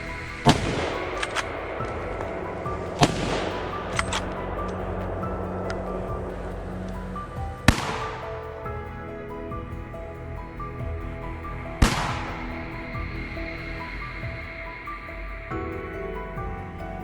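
Four sharp gunshots ring out at spaced intervals during a wild boar hunt on a farm, each a loud crack followed by a long decaying echo over a low background hum.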